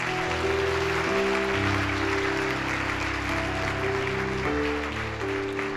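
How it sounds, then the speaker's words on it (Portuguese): Congregation applauding during a Sunday church service, a steady, dense wash of clapping that fills the whole stretch with faint musical tones beneath it. "dê um aplauso a Jesus"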